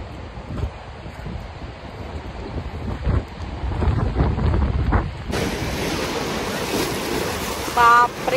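Fast-rushing water at a dam makes a loud, continuous roar mixed with wind buffeting the microphone, with a brief higher tone near the end.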